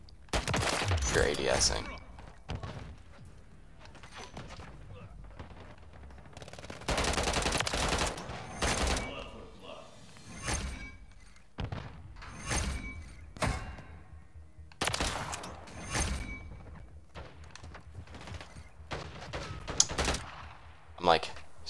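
Rapid submachine gun bursts in the shooter game Modern Warfare 3, repeated close, loud volleys with thuds and impacts scattered throughout, while a player talks over the action.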